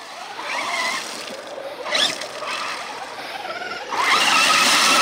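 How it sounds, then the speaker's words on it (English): Traxxas X-Maxx RC monster truck on paddle tires churning through swamp mud, a steady whining motor roar with slurping, spraying bursts that swell loudest near the end, no talk. "It's her first time driving the XMAXX with paddle tires."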